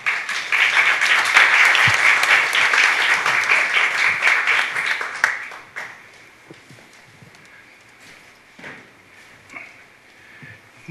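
A crowd at a lecture event gives a warm, loud round of applause that lasts about five seconds and then tapers off, followed by a few scattered claps and quiet room noise.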